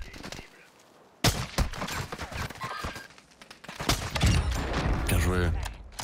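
Enemy gunfire in Warzone 2, sharp shots and bursts that start abruptly after a quiet moment and keep recurring, with players talking over the shooting.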